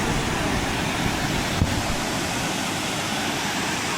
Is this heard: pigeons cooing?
no